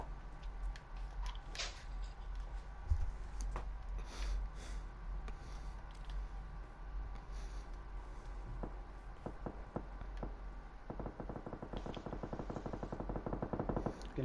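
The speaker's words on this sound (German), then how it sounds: "Also südlicher Richtung kommen die Schüsse." Faint bursts of rapid gunfire and scattered single shots in the video game PUBG crackle over a constant low hum, growing denser toward the end; no talking.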